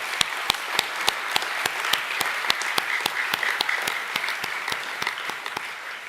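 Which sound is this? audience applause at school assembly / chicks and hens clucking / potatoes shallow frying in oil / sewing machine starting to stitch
audience applause at school assembly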